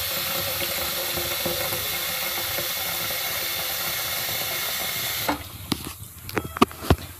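Fresh water pours steadily into a fish tank during a partial water change, a constant rushing splash for about five seconds that then stops, followed by a few drips and light knocks.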